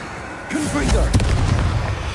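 A Confringo blasting spell in Hogwarts Legacy explodes as one loud, close boom with a crackling burst, rolling rumble and a swooshing magical tail that carries on to the end.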